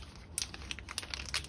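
Plastic packaging of ASDA barrel aged Greek feta cheese crinkles and crackles as it is handled and pulled open, a string of faint, close, irregular crisp rustles.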